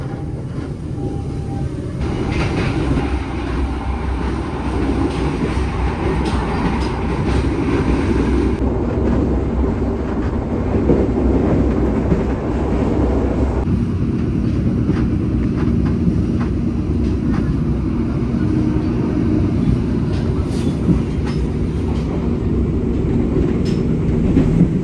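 An executive train car built in 1964 runs fast along Indonesian rails near Cikarang and Bekasi, a loud, continuous rumble and rattle of wheels and carriage that holds steady throughout.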